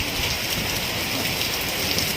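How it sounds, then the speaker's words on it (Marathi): Light drizzle falls steadily with wind in Guhagar, a soft continuous hiss of raindrops spread evenly across the whole stretch, close and uninterrupted, with no voices. "आणि आता वारा सुटला आहे, रिमझिम पाऊस चालू आहे"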